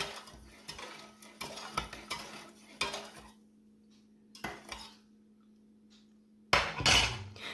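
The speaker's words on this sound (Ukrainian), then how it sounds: "Все гарно перемішую і заливаю цією водою свої бурячки" Metal utensils clink and scrape against a pot of beets in short bursts with pauses, ending with a louder splash of water being poured over them.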